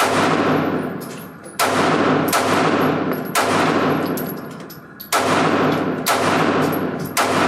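A Springfield Hellcat pistol fires at a shooting range at 10 yards, with five loud sharp shots spaced irregularly, each ringing out and decaying in the open air.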